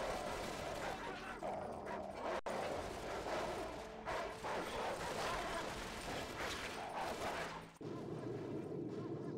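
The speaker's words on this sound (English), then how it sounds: "Dogs in the tall grass." Dogs bark in Call of Duty: Modern Warfare (Reflex edition) over a dense bed of game noise, with loud repeated barks and yips running through most of the stretch before a sudden cut.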